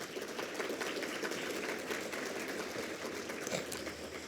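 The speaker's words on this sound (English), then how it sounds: "Let's give her a round of applause." Luncheon audience giving a round of applause for Ambassador Tracy at a roundtable event, a steady, moderately distant wash of many hands clapping that holds evenly for several seconds.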